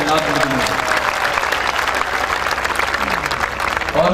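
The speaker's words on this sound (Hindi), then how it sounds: "मैं चाहूँगा साईं के लिए जोरदार ताली बजाएंगे मेरे बाबा के लिए साईंनाथ जी के" A crowd at an Urs celebration at a Sufi dargah claps loudly for Sai Baba, a dense, sustained burst of applause with voices mixed in under the clapping.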